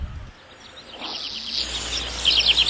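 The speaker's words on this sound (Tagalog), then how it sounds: "Nasa park tayo ha, may mga ibon." Birds chirp in a park, with small high twittering calls that are faint at first and grow busier and louder toward the end over a low background rumble.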